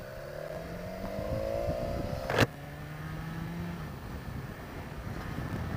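BMW S1000 XR motorcycle riding along, engine drone steady with rising and falling pitch traces under wind buffeting, plus one sharp brief click midway.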